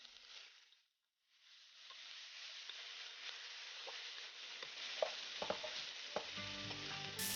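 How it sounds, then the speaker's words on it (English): Shiitake mushrooms and cabbage stir-fried over high heat for an egg roll filling, giving a steady close sizzle with crackling pops and spatula clatter that builds toward the end, with no talking. "Stir fry over high heat until they are softened for another 1 minute."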